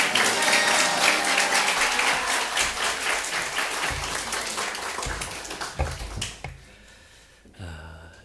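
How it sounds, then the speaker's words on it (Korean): A church congregation claps hands as a pastor comes forward. Brisk, crisp clapping runs loud and continuous, then thins to scattered claps and fades out near the end. "할렐루야 박수 하시면서"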